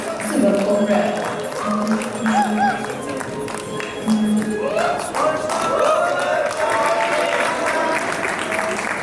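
An audience at a Himalaya Airlines 10th anniversary celebration claps warmly and steadily throughout, a dense sustained round of applause with a few voices rising over it.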